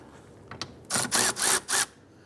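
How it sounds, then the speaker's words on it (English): A 10 mm socket ratchet with an extension loosens a mirror mounting bolt on a 2010-2016 Cadillac SRX, giving three or four loud, close bursts of rapid clicking, each lasting a fraction of a second. "10 millimeter socket and extension. We'll go to loosen and remove this one here."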